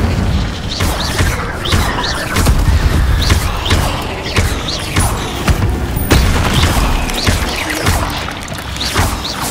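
Rapid fire-spell blasts from Incendio in the video game Hogwarts Legacy, a loud barrage of booming thuds and crashing impacts repeating about every half second over a dense rumbling combat background.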